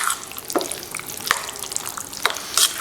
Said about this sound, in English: And now we're going to mix this